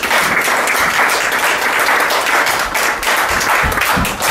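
Family members clapping for a soldier just returned home for a Christmas surprise, loud continuous close applause with a few louder individual claps standing out near the end.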